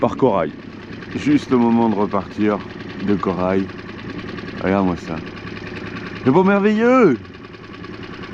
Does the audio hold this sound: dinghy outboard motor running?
yes